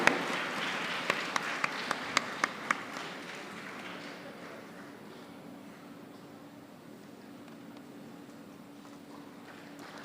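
Applause from the audience at a university convocation, a few sharp claps standing out at first before the clapping thins into a soft, fading hum of a large hall.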